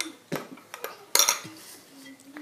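Sourdough starter stirred in a container with a utensil, giving a few sharp clinks and knocks against the side plus soft scraping, close and sparse.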